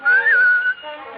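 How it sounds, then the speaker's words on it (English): A single clear whistled note from a radio drama adaptation of Pinocchio, rising slightly and then holding steady for under a second before fading into a soft tone. "Give a little whistle."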